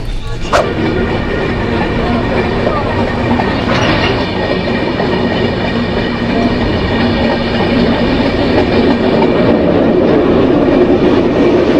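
Moving 12325 Gurumukhi SF Express passenger train arriving at Saharanpur, Uttar Pradesh, with a steady rumbling clickety-clack of wheels over rail joints, loud and close from inside throughout, a brief high clank near the start.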